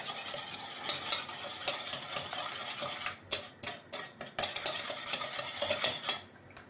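A whisk beating egg yolks with brown sugar in a bowl, fast rhythmic scraping and clinking that runs steadily, then turns choppy and uneven in short bursts.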